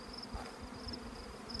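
Honey bees buzzing around opened hives in a summer bee yard, a continuous low drone with shrill wingbeat tones passing near and away, steady and close, no voices.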